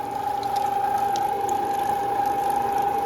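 A small meat grinder, not a three-phase unit, grinds cold sausage meat with a steady loud mechanical whir and a constant motor tone, running continuously without pause.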